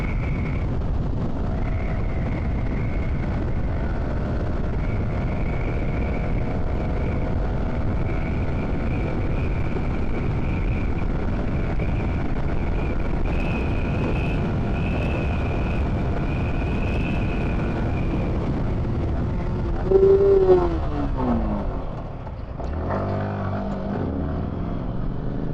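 Motorbike cruising fast on a road trip from Bangalore, a steady engine drone with a whining tone and heavy wind rush throughout, briefly changing pitch and easing off near the end.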